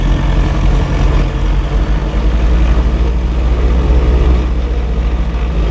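The right engine of a Piper Turbo Comanche, an aircraft that had sat for 14 years, roars close and steady at about 1700 rpm during a run-up magneto check, a dense, continuous propeller drone with no talk.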